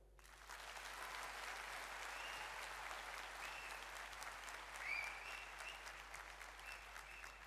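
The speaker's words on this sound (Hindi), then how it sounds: "एक बार ताली बजाओ।" Audience applause at a motivational seminar in Punjab, India: sustained, even clapping from a crowd that swells quickly and holds steady throughout, moderately distant with no talk over it.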